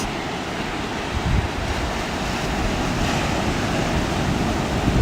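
Ocean surf breaks continuously on a beach at sunrise, a steady, dense wash of waves and spray with low rumbling surges, loud and unbroken, with no voices.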